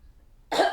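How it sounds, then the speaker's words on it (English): A single sharp cough bursts out close to the microphone after a brief moment of near silence. "Sorry, I had to cough."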